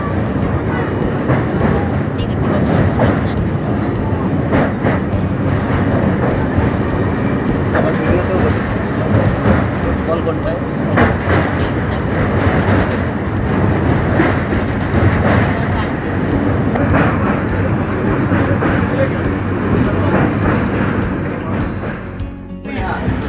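Tamralipta Express train running at full speed, a steady loud broadband rumble and rattle of wheels on track that holds without a break throughout and fades slightly at the very end.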